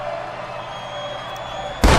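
A wrestler's knee strike to the face lands as a single sharp, loud slam near the end, cutting through steady arena crowd noise at a televised wrestling event.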